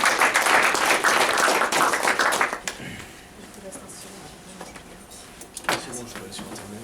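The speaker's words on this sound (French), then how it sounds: "on va applaudir chaleureusement Sylvain Loganadin" Conference audience applause for a speaker at a trading event, dense clapping that lasts about two and a half seconds before cutting off, followed by quiet room noise and a few scattered sounds.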